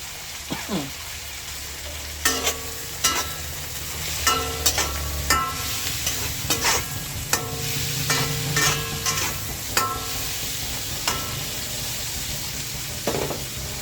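Tofu frying with softened tomatoes in a pan, a continuous close sizzle broken by repeated sharp metallic scrapes and taps of a spatula stirring at an uneven rhythm.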